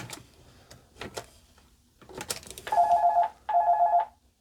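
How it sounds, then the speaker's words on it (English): A vintage Telstar office desk phone rings in two electronic trilling bursts, each about three quarters of a second long, after a few handling clicks and taps. "let's call the office phone here."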